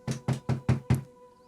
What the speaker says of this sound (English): You all are awoken by the sound of a gentle knock on your doors.